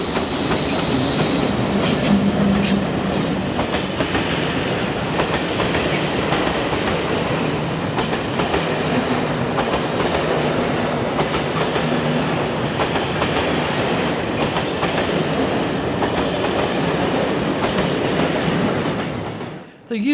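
Freight or passenger train on the steep, tightly curving Semmering Pass line in Austria, double-headed by two class 1142 and 1144 electric locomotives dropping down the grade; a loud, steady rumble of wagons with rhythmic wheel clatter and some squeal, ending abruptly.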